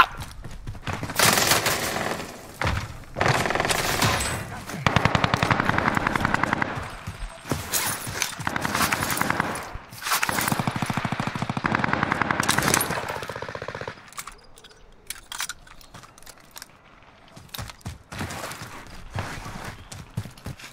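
Bursts of automatic gunfire rattle in Call of Duty on Rebirth Island, dense rapid volleys with brief pauses through the first fourteen seconds, then thinning to scattered quieter shots near the end.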